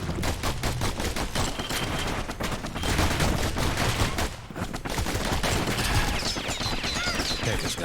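Dual slinger pistols fire in the action game Bastion, a dense, nearly continuous barrage of rapid shots mixed with combat noise, loud and sustained for about eight seconds.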